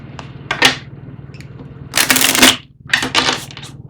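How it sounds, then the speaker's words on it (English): Messages of Love Oracle cards being shuffled by hand, three bursts of crisp riffling and flapping card noise separated by brief pauses, close and fairly loud with no talking. "welcome to the pre-shuffle. So first up, we're going to use the Messages of Love Oracle cards."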